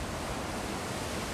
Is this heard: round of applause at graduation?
no